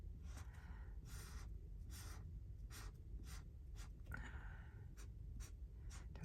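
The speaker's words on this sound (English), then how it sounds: "you can do this type of mark making too on paper as well" Pen or marker making quick strokes on regular paper, close and quiet, a series of short scratchy scribbles in an irregular rhythm with soft breathing in between.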